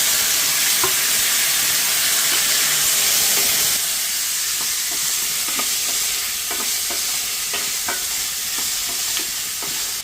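Garlic and onion frying in a pan for a garlic curry, added after mustard seeds, curry leaves and fenugreek. A steady close hiss and sizzle runs throughout, with a run of soft scraping stirs in the second half.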